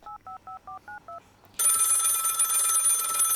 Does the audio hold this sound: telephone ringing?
yes